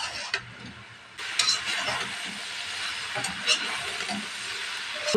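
Vegetables fry in a pan for a big batch of bhaji, a soft steady sizzle with occasional stirring scrapes, close by and moderately quiet with no talk.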